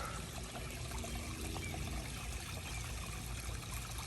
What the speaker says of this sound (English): Water's flowing.